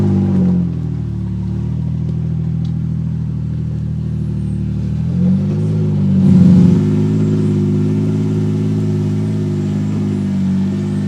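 A 4x4 off-road vehicle at Chappie Overland Park grinds over rocks, its mid-pitched engine droning steadily with a swell of revving partway through, close and loud with no talk.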